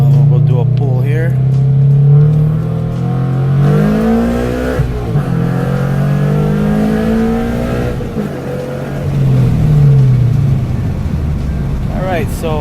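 A Subaru BRZ exhaust with a high-flow cat front pipe and overpipe roars through a long acceleration pull, pitch sweeping upward through the gears with brief dips between shifts, loud and close.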